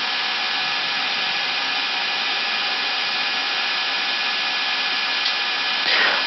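Airbus airliner engines spool up for takeoff on the runway, a steady, loud, broad roar that holds level throughout, with faint cockpit sounds on top.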